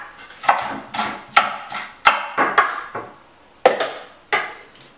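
An onion being chopped on a board: a series of about ten sharp, close knife strikes in an uneven rhythm, each a crisp thud with a short tail, with no talk.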